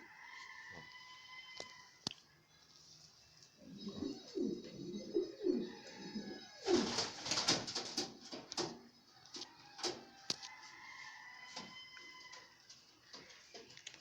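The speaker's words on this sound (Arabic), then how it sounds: "ده حمام جوه محبوس، خلاف السايب والطاير بره" Pigeons coo softly in low, throaty bursts from inside an enclosed loft, with a brief flurry of rustling or flapping midway and faint ticking in the background.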